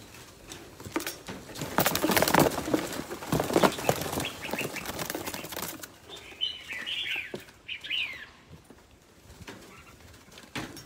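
Baby chicks chirp in thin, high peeps, heard clearly in the later part after a stretch of fluttering and rustling.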